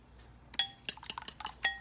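Eggs are mixed in a bowl with a utensil, giving a quick run of sharp metallic clinks and taps against the rim, close and crisp, with no talk.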